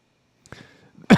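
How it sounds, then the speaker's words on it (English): A single short cough-like burst or throat clearing sounds close by, preceded by faint breathy rustling, and nobody speaks. "I'm coughing already."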